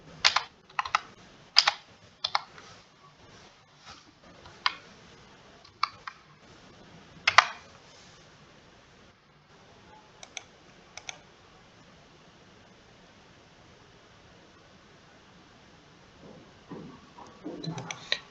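Sharp clicks of a computer keyboard as Java code is typed, bursts of keystrokes in the first half, then sparser taps; a voice speaks faintly near the end.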